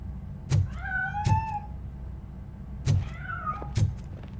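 A cat meows repeatedly inside the video game RoboCop Rogue City, with four distinct rising-and-falling cries in two pairs, fairly close and clear over a low game ambience.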